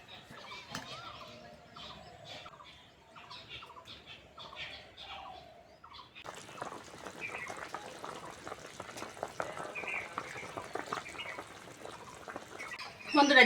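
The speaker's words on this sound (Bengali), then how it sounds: "ঝোল ভালোভাবে ফুটে গেছে" A pot of mrigal fish curry with tomato and chilli powder boils, breaking into a dense, steady bubbling hiss after a quieter stretch of soft rhythmic knocks.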